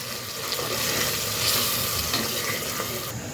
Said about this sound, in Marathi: हा मसाला घालून आपल्याला आता थोडंसं तेलामध्ये परतून घ्यायचं आहे